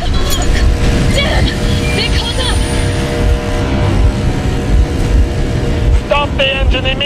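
A vehicle engine runs steadily in Metro Exodus, a continuous low mechanical rumble that fills the whole stretch, with faint game voices and tonal effects rising over it near the end.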